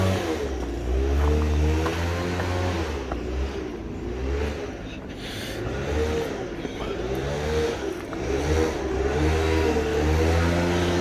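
An engine of a street dust-cleaning machine runs nearby near the southern wall of the Temple Mount in Jerusalem, its mid-pitched motor droning and revving unevenly and loudly throughout with some clatter.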